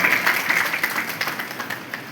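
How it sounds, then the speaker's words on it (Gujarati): Applause from a crowd at an Aam Aadmi Party public rally in Mandal, Gujarat: a brief, fairly steady patter of clapping with scattered sharper claps, mid-level in loudness. "તાળીઓથી બતાવો ભાઈ"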